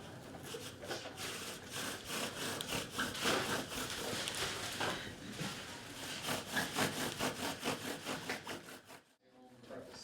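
Rhythmic back-and-forth rasping of a wooden bow drill spinning against wood, fast regular strokes for several seconds, then stopping abruptly near the end.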